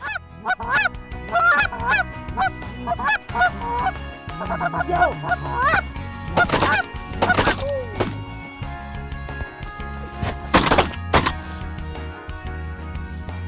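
A flock of geese honks loudly and repeatedly during a hunt in Saskatchewan, overlapping calls near and far, with a few sharp thumps mixed in.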